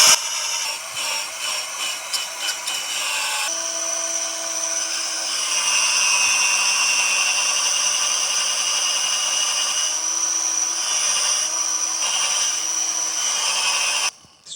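Cordless drill spinning a piece of wood against wood to try to light a fire, a steady high-pitched whine held close and loud for most of the stretch, with slight pitch shifts and no speech.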